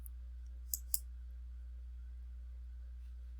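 Two crisp mouse clicks in quick succession, close and distinct against a steady low electrical hum, while navigating a Canvas gradebook to export it.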